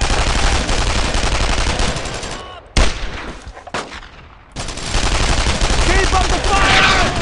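Gunfire in the 2005 World War II game Brothers in Arms: Road to Hill 30, a dense, loud battle roar with rapid shots and booming blasts, a brief lull, then heavy firing again, with voices shouting underneath.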